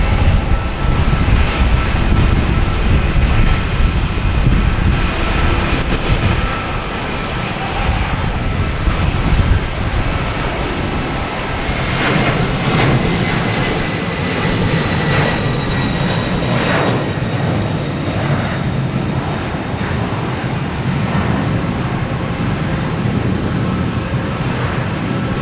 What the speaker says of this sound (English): 767-300 heading to Edinburgh.